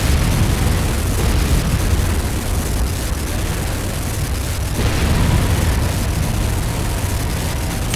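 A GDI Tiberium silo blowing up in the Renegade video game, heard as a loud, sustained rumbling explosion roar that fills the whole stretch without letup, dense and close with heavy low-end boom.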